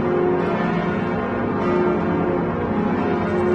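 Notre-Dame cathedral church bells in the North Tower ring steadily, a dense, sustained wash of overlapping bell tones with a constant loudness throughout and no talk.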